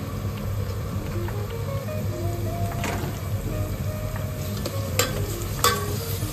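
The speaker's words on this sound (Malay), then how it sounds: "Masukkan ayam kisar yang dah dipotong dadu tadi." Diced minced chicken stir-fried in a pan with sautéed spring onion for a Korean soft tofu stew, giving a steady close sizzle with occasional scraping stirs and clinks of the utensil against the pan.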